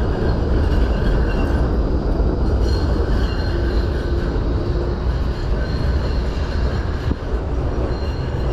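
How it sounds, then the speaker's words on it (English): A tram departing in St Kilda rumbles loudly and continuously nearby, a dense low roar with faint wheel squeal and occasional clanks, no voices. "Tram we arrived on heading back to the city."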